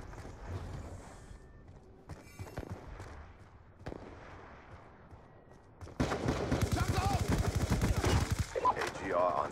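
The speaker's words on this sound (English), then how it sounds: "Sentry gun ready for deployment." A sentry gun fires in a video game, with sparse mechanical clicks and game voice lines early on, then a dense, loud burst of rapid automatic gunfire over the last few seconds.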